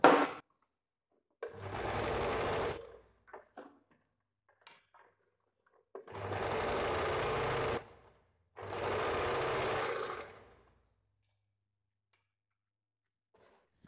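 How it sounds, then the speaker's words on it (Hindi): A sewing machine stitching fabric for puff sleeves runs in three separate bursts of rapid, even mechanical whirring, each a couple of seconds long, with quiet gaps and faint handling clicks between them. "अभी यहाँ से और एक सिलाई देना है"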